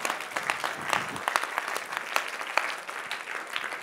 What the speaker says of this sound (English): Let's give Jesus a round of applause for our parents.